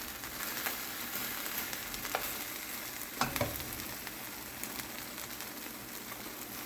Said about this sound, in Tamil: ஸோ இந்த சாஸஸில் போட்டு நம்ம நல்லா சாட் பண்ணணும்